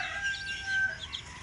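A batch of eighteen Black Tiger RDA line baby chicks peep continuously in high, overlapping chirps. The chirping is close and moderately loud, with no voices.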